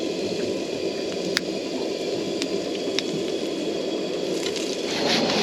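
Hot oil spits and crackles steadily as squid fries on a boat, a dense sizzling hiss broken by a few sharp pops.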